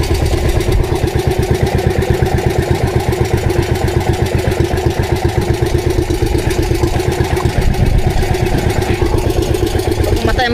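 A boat engine's steady, rapid putter idles continuously at close range, loud and even throughout, with no breaks.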